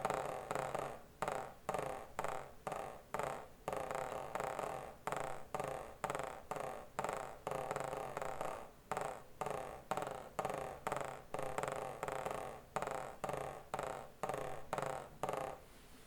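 Soft buzz rolls on an orchestral snare drum, a quiet, steady series of short pressed rolls in an even pulse, played alone with no voices.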